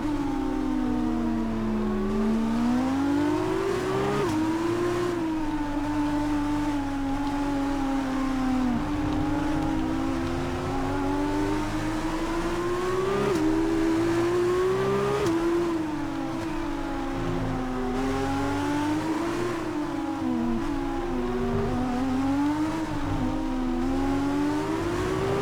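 An F2 race car engine in the F1 2019 video game, a loud whining note climbing and dropping repeatedly through gear changes, steady and close with no talking over it.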